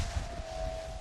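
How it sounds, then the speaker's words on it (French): Rudder of a 60-foot racing yacht in the Vendée Globe sings with a steady piercing high whistle over constant loud rushing water and hull noise at sea. "Ici, c'est le sifflement du safran qu'on entend."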